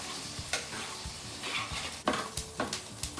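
Spinach sizzling in a frying pan as it is stirred, a steady crackling hiss broken by several scraping, clattering stir strokes close by, with no voices.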